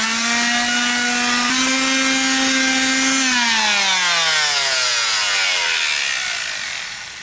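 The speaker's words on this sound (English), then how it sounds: "I'm going to sand this off a little bit to get all that off there so we can make sure we get a good bond" A power sander works on a boat's transom block to prepare the surface for bonding, running loud and steady up close, then winding down and fading toward the end.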